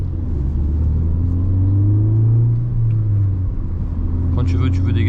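Inside a VW Golf 6 R pulling away hard, the engine drone swells and climbs steadily, eases at a shift, then builds again, loud and close, with a voice briefly heard at the end.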